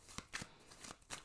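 Tarot cards being handled and shuffled close up, with several quick papery riffles and slaps spaced through the moment, no voices.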